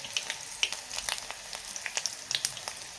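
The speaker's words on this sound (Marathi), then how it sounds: "तर बघू शकता आपलं लसूण पण छान तळलं" Garlic frying in hot oil in a pan, a steady close sizzle with crisp popping crackles scattered throughout, no voices.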